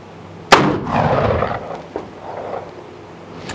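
A single loud .44-40 shot from a Single Action Army revolver fired on an outdoor range cracks sharply, then a rumbling report rolls off, followed by a fainter echo or second bang about a second and a half later.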